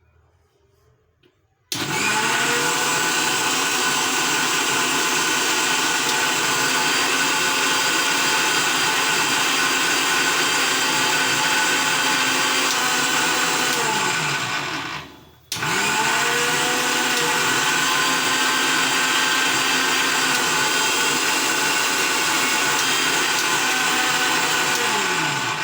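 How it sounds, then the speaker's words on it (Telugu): Kitchen mixer grinder blending a banana hair mask with added water: a loud, steady motor whir runs continuously, briefly stops, then restarts and keeps running, with no voices over it. "మళ్ళీ మిక్సీ పట్టండి"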